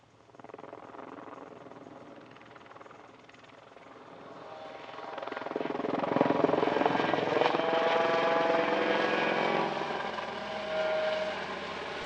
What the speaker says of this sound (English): Helidax has a fleet of 36 EC-120s used for basic rotary wing training by the French Air Force, Army,